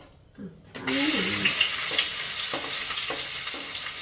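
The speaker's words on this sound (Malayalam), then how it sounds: "ഇഞ്ചിയും വെളുത്തുള്ളും കൂടെ നമ്മൾ ചതച്ച് വെച്ചത് ആ പേസ്റ്റ് രൂപത്തിൽ ആ ഇത് എണ്ണ ചൂടായി കഴിയുമ്പോൾ നമ്മൾ ഇടണം" Crushed ginger garlic paste for duck curry drops into hot oil and bursts into a loud, steady sizzle that continues close up, with light stirring taps; a brief voice is heard just before it hits the oil.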